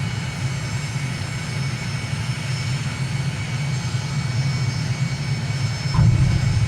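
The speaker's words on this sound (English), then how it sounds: "we're going to hit full power as soon as we touch" Aircraft engine at full power during a touch-and-go landing in a flight simulator game, a steady loud drone with a rising surge of low rumble near the end.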